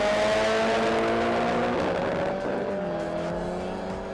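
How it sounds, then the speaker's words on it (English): Drag racing cars launching at a 2024 drag event, engines roaring loudly and climbing in pitch as they accelerate away, a sustained dense engine howl with no talk. "So you can see the two cars lining up."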